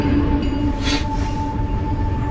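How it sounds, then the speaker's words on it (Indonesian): A train pulls into a station with a loud, continuous rolling rumble and a faint, thin wheel squeal over the top, close and steady throughout. "Tak lama lagi kereta akan tiba di stasiun."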